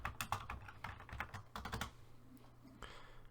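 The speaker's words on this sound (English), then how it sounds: "hit Ctrl M on your keyboard" Rapid, close-up clatter of computer keyboard keys, a burst of crisp taps in uneven rhythm followed by a couple of isolated presses, with no talking.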